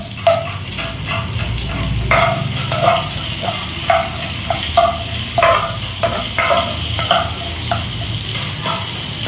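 Spices for a tempering fry in oil until reddened, for a spinach dal. A loud, continuous sizzle runs under repeated rhythmic scrapes of a spoon stirring the pan.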